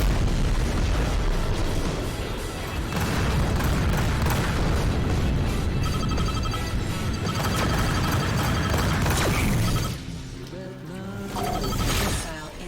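Space combat firefight in Rebel Galaxy Outlaw, with loud continuous booming explosions and weapon bursts layered over music and mechanical hum, dropping briefly before another heavy burst near the end.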